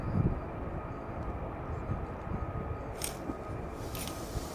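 An aircraft approaches RAF Lakenheath at night as a distant, steady low rumble under constant background noise, with a couple of faint clicks nearby and no talking.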